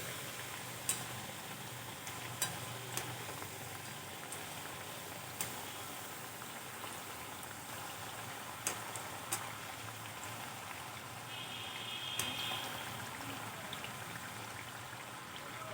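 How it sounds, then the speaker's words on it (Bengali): Semolina snacks bubble and sizzle steadily in hot oil, a soft continuous crackle with scattered sharper pops, fairly quiet and with no voices over it. "এইভাবে লাল লাল করে সব ভেজে নেব"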